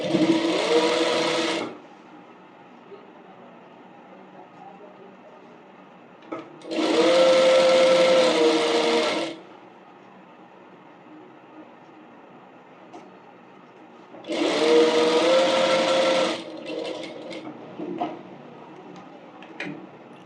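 A domestic sewing machine stitches a fabric bonnet during a tailoring lesson, running in three separate bursts of steady rapid needle whirring, each about two seconds long, with quiet gaps between them.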